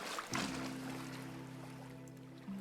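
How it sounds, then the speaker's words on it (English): Running water in the survival game Vintage Story, a soft continuous trickle and flow heard faintly in a redwood forest setting, with a low steady tone underneath and a brief splash-like onset near the start. "Alright, I hear running water."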